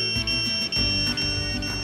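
A personal safety device in alert mode sounds a loud, piercing electronic alarm. Its steady high tone pulses rapidly over a rumbling background.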